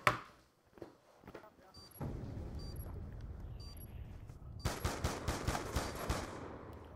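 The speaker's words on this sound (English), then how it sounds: "I think I shot him in the shin at least 3 times" Gunfire in the Black Ops 2 video game, with a sharp shot at the start, a sustained noisy stretch and then a loud rapid burst of automatic fire near the end.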